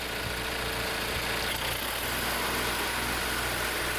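A Simplicity Sunstar garden tractor engine idles steadily with its fairings on, a constant mid-pitched hum and rumble running evenly throughout, close and fairly loud with no talking.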